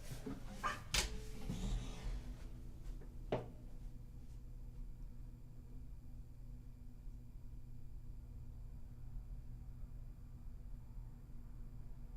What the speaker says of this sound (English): My dog wants to come inside.